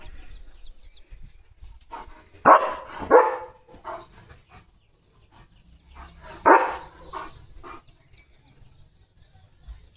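A German Shepherd barks out loud and close in a village setting: a couple of quick barks, a pause, then another single bark, over quiet background.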